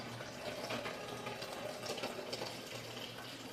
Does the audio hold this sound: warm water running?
yes